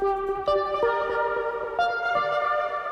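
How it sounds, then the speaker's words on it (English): A synth melody played on a Korg Drumlogue's nano engine rings out in clear sustained tonal notes with delay and reverb tails, shifting pitch every few beats, with no voices. "So the main synth part sounds like this."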